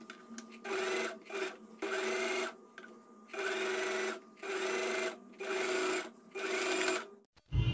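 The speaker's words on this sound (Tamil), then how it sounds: "நெக்கு மட்டும் லைனிங் ஃபேப்ரிக் மெயின் ஃபேப்ரிக் ரெண்டுத்தையும் ஒன்றா சேர்த்து ஸ்டிச் வந்து பண்ணிக்கலாம்" Sewing machine stitching lining and main fabric together at the neck of a puff-sleeve blouse, running in repeated bursts of about a second each with short pauses between, close and loud, no talk.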